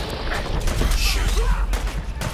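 Gunfire during a Fallout 4 video game fight against raiders, a dense burst of game shots and mechanical clatter filling the whole moment with steady loudness, with a voice speaking over it.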